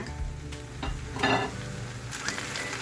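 Carabao meat sautéing in a pan, a steady close sizzle with crackling bursts and occasional stirring scrapes, moderately quiet with no voices.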